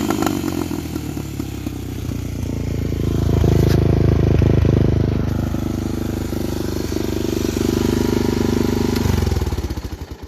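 A loud, close 1986 Honda TRX250 ATV engine with an aftermarket exhaust rumbling with a throaty, popping note, swelling briefly as it revs, then settling into a steady run.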